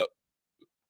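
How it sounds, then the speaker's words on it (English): A single sharp hiccup at the very start, then near silence apart from one faint small sound afterwards. "We got hiccups."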